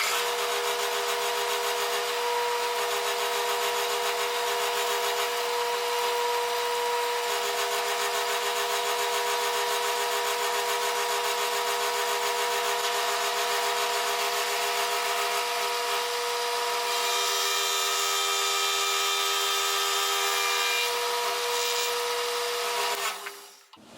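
A milling machine cuts a hex on a Precision Matthews BS-1 dividing head, giving a loud, steady whining and grinding drone with a sustained tone that runs unbroken, then cuts off at the end.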